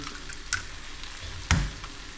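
Eggs are cracked into a hot pan: two sharp, close knocks about a second apart stand out above a soft, constant sizzle.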